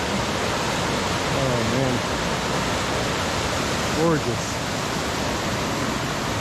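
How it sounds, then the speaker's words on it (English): A waterfall along a hiking trail on a long thru-hike, a steady broadband rush of falling water filling the whole clip at close range, with a person briefly speaking over it. "This is the first really good waterfall on the trail."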